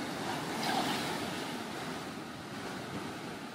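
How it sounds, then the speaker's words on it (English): Massive ocean waves break at Bathsheba beach in Barbados. The surf is a continuous, broad wash of roaring water mixed with wind, with no talk over it. "Those are some massive waves."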